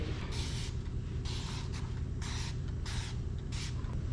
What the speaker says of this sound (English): I've got some Dawn Platinum Plus disc spray.